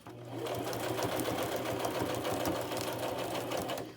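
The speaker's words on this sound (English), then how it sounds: "your sewing machine is designed to push the material through" A sewing machine runs steadily at close range, its rapid stitching hum continuous and even for the whole stretch with no talking.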